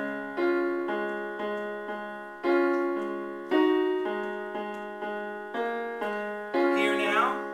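The left-hand piano part of Chopin's Raindrop Prelude rings out as a steady series of separate low notes, each struck and left to fade, played slowly and clearly alone.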